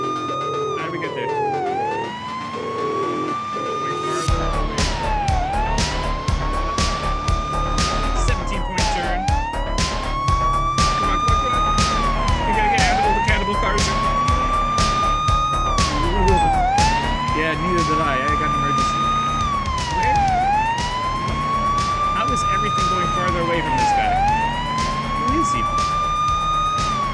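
A police car siren from a police simulator video game wails in steady, repeating up-and-down sweeps, loud and continuous for most of the stretch after a brief quieter opening.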